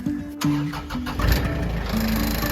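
A car engine starts close by, a brief cranking whir catching into a steady idle hum that carries on to the end.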